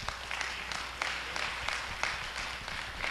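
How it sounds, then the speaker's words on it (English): An audience at a public utilities hearing breaks into sustained, moderately distant applause, a dense patter of clapping with occasional louder claps throughout. "I'm going to ask that you please keep your applause to a minimum so the mayor can finish"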